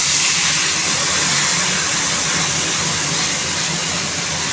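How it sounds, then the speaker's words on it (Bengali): Spice paste hits hot oil in a pan and sizzles loudly, a dense, steady hiss that stays up close and continuous throughout. "এবার যেই মশলাটা করে রেখেছি ওই মশলাটা দেব তেলের মধ্যে।"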